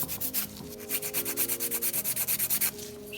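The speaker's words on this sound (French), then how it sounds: "On vient aussi limer le dessus pour créer l'adhérence pour le vernis permanent." A nail file rasping across the top of a gel nail tip in quick, even back-and-forth strokes, close and soft, a rhythmic scratchy rub with no talking.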